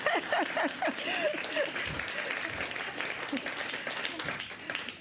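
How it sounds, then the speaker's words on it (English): Enthusiastic applause from an audience at a public meeting, a dense steady wash of clapping that holds throughout with some voices mixed in. "Enthusiastic applause for Digstown!"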